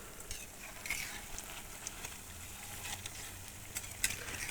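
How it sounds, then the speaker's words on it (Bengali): Egg chops frying in hot oil over a wood fire, a continuous bright sizzle with occasional sharper pops and crackles, close and steady. "দেখো বন্ধুরা, এখানে ভাজা হচ্ছে"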